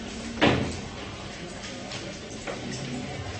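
Doors in a conference hall are shut during a Model UN session: one loud thud early on, then fainter knocks and clicks from doors further away.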